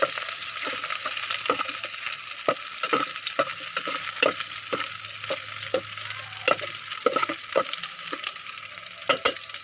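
Sautéing in a pan for a spider conch (saang) dish produces a continuous close sizzle punctuated by a regular rhythm of sharp spatula scrapes and taps against the pan.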